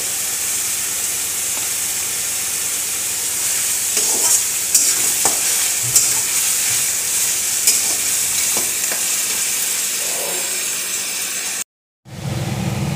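Food sizzles steadily in a hot pan while a utensil scrapes and stirs at irregular intervals, then a brief cut to silence near the end.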